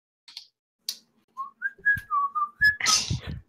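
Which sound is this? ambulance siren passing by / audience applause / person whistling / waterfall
person whistling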